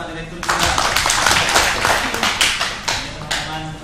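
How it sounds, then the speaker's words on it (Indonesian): Clapping and applause from a seminar audience honouring a director during a visit by master's students to an embassy, a dense run of claps with sharp bursts, under a faint voice. "Tepuk tangan untuk Pak Direktur juga."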